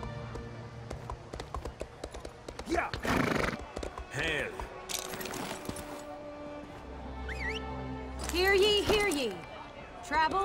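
Horse neighing and whinnying in the stables of the Elder Scrolls Online game, a couple of loud whinnies around mid-clip and later, with light hoof clops and game ambience under a talking voice.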